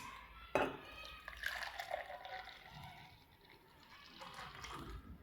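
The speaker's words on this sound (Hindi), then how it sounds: "अब जी मैं आपके सामने डालती हूँ इनमें" Thick drink poured into glasses, soft glugging and liquid trickles with a clink of glass near the start, quiet and close, while someone talks faintly over it.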